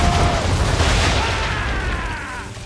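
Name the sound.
cannon fire and explosions in Assassin's Creed 3 video game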